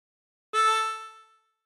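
One draw note on the sixth hole of a harmonica, a clean reedy tone held close and clear before it tapers away, with nothing else around it.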